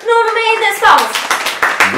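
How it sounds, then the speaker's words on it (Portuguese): Someone speaks to welcome a guest on a Portuguese-language show, then a few hands begin clapping in sharp, uneven bursts under the voice, building toward the end. "nosso querido Nuno Mendes, palmas!"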